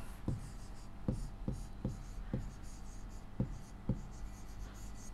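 Marker or chalk strokes on a classroom board during a science lesson, a series of sharp scratchy taps and short squeaking lines at an irregular pace, close and clear over a low room hum.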